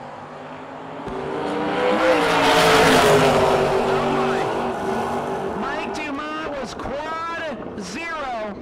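Drag race cars, a Camaro and a Mustang, roar loudly off the line at a no-box open event, engine noise swelling into a long blare before fading under an announcer's voice.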